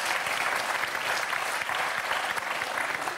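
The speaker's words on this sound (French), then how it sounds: "Un début d'applaudissement" Sustained, even applause from a television talk show studio audience, fairly loud and continuous across a few seconds with no talk on top.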